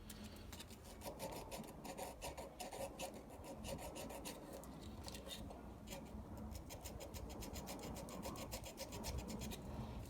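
A metal chain link is sanded by hand, producing a continuous scratchy rasping with quick repeated strokes, close but fairly quiet.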